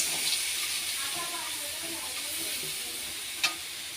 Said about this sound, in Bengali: নকুলদানাটা আমি দিয়েছি। দিয়ে নাড়াচাড়া করছি।